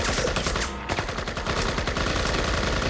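Rapid automatic gunfire from the 2001 PC shooter Project I.G.I., a dense, loud, continuous burst of shots with a brief dip partway through, heard alone.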